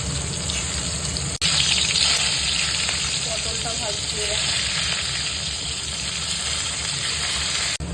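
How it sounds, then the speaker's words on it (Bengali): Potatoes for a meat curry sizzle steadily in a hot pan of oil, a dense, continuous crackling hiss that stays close and loud throughout with a brief clatter near the start. "মাংসের আলুটা ভাজা হয়ে গেছে এবার তুলে নেব"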